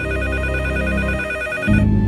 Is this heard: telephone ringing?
yes